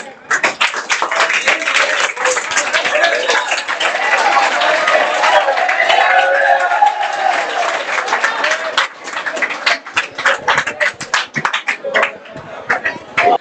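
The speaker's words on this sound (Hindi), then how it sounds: "अरे ताली बजा दो।" Audience at a prize distribution ceremony for class toppers clapping steadily and loudly for a student, many hands at once, thinning into scattered claps toward the end.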